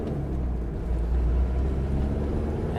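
A 1992 Toyota Corolla AWD diesel wagon drives along, a smooth low engine and road rumble heard from inside the cabin, steady and moderately loud throughout.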